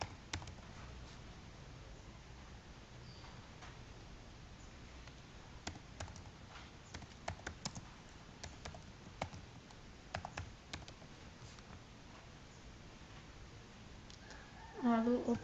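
Computer keyboard keys tap and click in short irregular bursts, faint and sparse, under a person talking.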